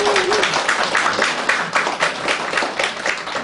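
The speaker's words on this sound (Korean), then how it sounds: "우리 한번 박수로" A church congregation at a Sunday service in Seoul applauds together, a dense, steady wash of many hands clapping at close to moderate distance, sustained throughout without letting up.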